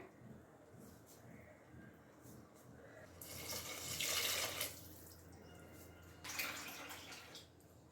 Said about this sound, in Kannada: ಈಗ ನೀರು ಹಾಕ್ಕೊಂಬಿಡೋಣ.